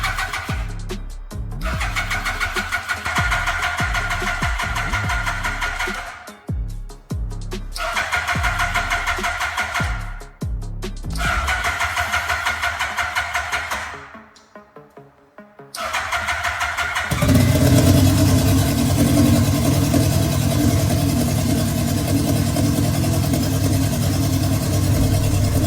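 A 25-year-old Yamaha R1 motorcycle engine cranks repeatedly on its test run with stuttering starter whirs and brief pauses, then fires up and settles into a loud, steady idle.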